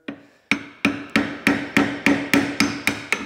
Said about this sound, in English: then just lightly start tapping on it, and you'll see that wood start to split right where I'm starting my chisel